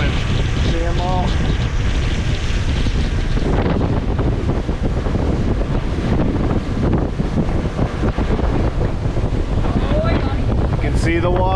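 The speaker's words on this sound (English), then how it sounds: "we got a lot of wind since we're going down the riverway here" Heavy, constant wind buffeting the microphone on a pontoon boat moving down a riverway, with a rough low roar and water rushing beneath it throughout and brief voices and a faint whistle near the end.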